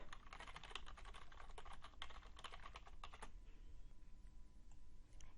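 Fast, close typing on a computer keyboard, a dense run of key clicks that thins out and stops near the end, with no talk.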